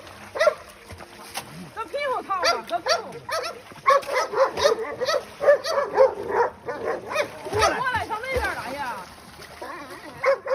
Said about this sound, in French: Ce chien a essayé désespérément de remonter le long de cette fine couche de glace, mais il n'a pas réussi